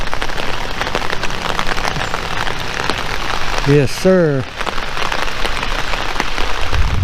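Heavy rain pours down onto an SS Camaro with a ceramic coating, a loud dense hiss and patter close by throughout, with someone speaking briefly partway through.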